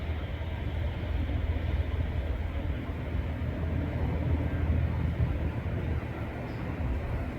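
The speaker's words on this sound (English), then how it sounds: "Big cranes out there making all kinds of noise." Big cranes at work in the distance, near a musk ox pasture at LARS in Alaska, make a steady low mechanical rumble and drone that holds constant throughout with no talking.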